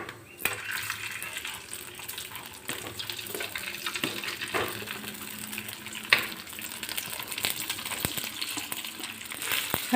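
A bread and semolina snack stirred into hot oil with cumin and turmeric in a pan over a low flame gives a continuous close sizzle with scattered scraping clinks of a spoon, and no talking.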